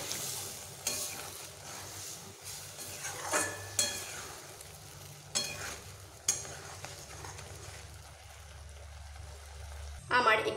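Ridge gourd being stirred in a pan after water is added, a spoon scraping and stirring with soft sizzling, steady and close, with occasional louder scrapes.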